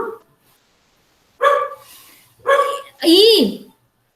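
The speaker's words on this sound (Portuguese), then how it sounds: "É galinha, cachorro latindo, assim o dia inteiro" A dog barks nearby outdoors, three loud separate barks spaced about a second apart, the last one longer and whining, following a brief earlier sound, with quiet gaps between.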